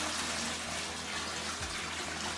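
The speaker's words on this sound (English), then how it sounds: "all I did was fill it up with the water, and we're going to pour this into" Water pours from a gallon pitcher into a stainless steel bucket, a continuous broad splashing gush heard close up.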